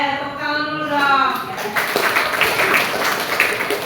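Classroom applause breaks out after a teacher's spoken prompt, a brief burst of many hands clapping at close range that continues under the talk.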